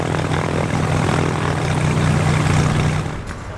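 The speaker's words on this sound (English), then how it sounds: "This is a Cessna 337." Cessna 337 twin push-pull propeller aircraft at an airshow, a steady loud drone of engine and propeller noise holding throughout before easing slightly near the end, with no talk.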